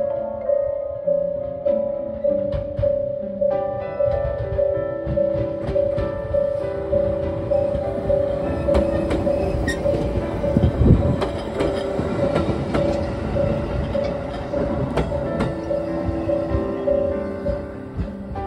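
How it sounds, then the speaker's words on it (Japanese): A JR 213 series 5000 local train pulls into a station on the Iida Line in winter, with a steady rhythmic clatter of wheels over rail joints, a sustained motor tone and a brief squeal, loud and close throughout. "213系5000番台普通列車豊橋行き 570M 列車が到着しました。"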